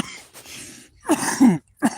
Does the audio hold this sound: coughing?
yes